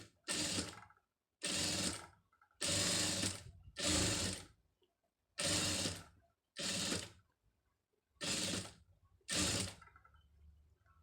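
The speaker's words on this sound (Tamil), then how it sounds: "இதில் வந்து ஒரு 1/4 இன்ச்சு அளவுக்கு வந்து தையல் போட்டுருங்க" A sewing machine stitches fabric in eight separate bursts of about a second each, a loud, close, rapid mechanical whirring with short silent pauses between runs.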